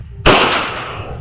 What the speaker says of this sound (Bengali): তো গাইস এই দেখো বম ফুটাচ্ছে।